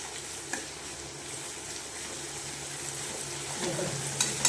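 Onion frying with garlic and ginger paste while being stirred, a low continuous sizzle with occasional spoon scrapes and knocks, a voice faintly present in the background.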